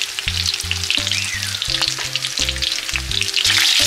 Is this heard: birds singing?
no